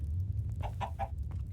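A Minecraft SkyFactory3 chicken gives a short run of close, clear clucks, three quick ones then a fourth after a pause, over a low background hum.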